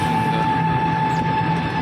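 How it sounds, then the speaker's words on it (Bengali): Loud, continuous rumble and rolling clatter of a goods train passing close by in Birbhum near Nalateswari temple, with a steady tonal whine above the noise. "আবার আবার মাল গাড়ি।"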